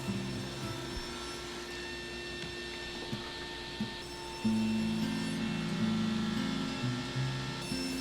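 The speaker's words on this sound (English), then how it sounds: "One benefit of being in a shared shop is access to a full-size panel saw. It makes cross-cutting large pieces like this a breeze." Full-size panel saw in a shared woodworking shop cross-cutting large pieces of wood, a steady loud motor drone with a sustained low hum that grows heavier midway as the blade bites into the stock.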